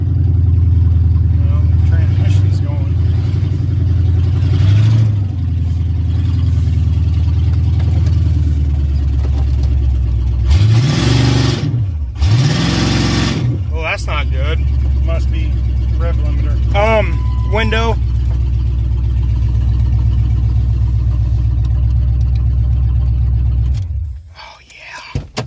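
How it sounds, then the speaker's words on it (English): The V8 engine of a 1999 Mercury Mountaineer with no reverse or neutral runs at a loud, steady idle for most of the stretch, with a couple of brief revs and murmured voices before it cuts off near the end. "I like the sound of this V8."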